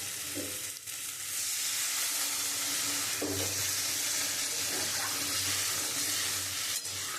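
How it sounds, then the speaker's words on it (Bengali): Water hits a pan of prawns fried in onion-garlic masala, setting off a loud, steady sizzle that holds throughout, with occasional scrapes and stirs of a spatula close by. "এবার আমি পরিমাণ মতো জল দিয়ে দেবো।"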